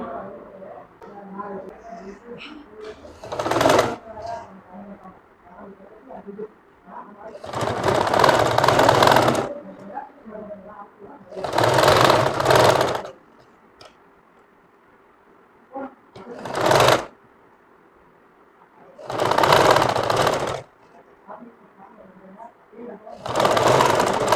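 A sewing machine stitches a kameez collar in six loud, steady whirring runs of a few seconds each, separated by pauses where a person talks.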